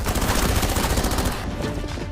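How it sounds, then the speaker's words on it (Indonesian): Gunfire bursts in an Indonesian drama scene where a commander is shot, dense and loud with rapid overlapping blasts across the whole stretch, easing slightly near the end. "Komandan itu ditembak Yosep karena tak mau meledakkan jembatan"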